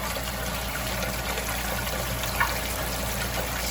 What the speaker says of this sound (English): there's a hell of a lot of water coming out